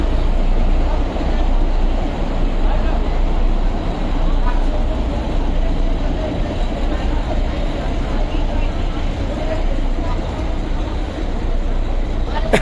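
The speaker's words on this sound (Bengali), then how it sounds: "এই হলো টয় ট্রেন।" Darjeeling Himalayan Railway toy train at the station, heard as a loud, steady rumble with continuous mechanical noise and voices from a crowd mixed in.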